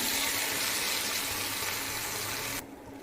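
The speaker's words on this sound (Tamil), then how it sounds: "தேவையான அளவு தண்ணி சேர்த்துக்கோங்க" Water gushes steadily into a cooking pan of watermelon chutney mixture for a few seconds, then abruptly stops, leaving a quieter background.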